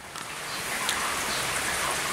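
Steady rain falls outdoors at a grill hut building project, a dense continuous hiss of drops on surfaces with no voices.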